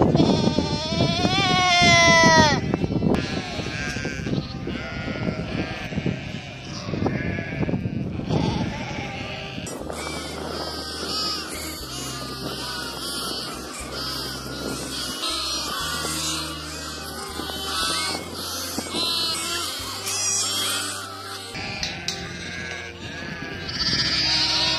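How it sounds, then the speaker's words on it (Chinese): A sheep on a farm where lambs are kept lets out harsh, wavering bleats, loud and close in the opening seconds, before music takes over the rest of the stretch. "挑战全网叫的最难听的羊叫声"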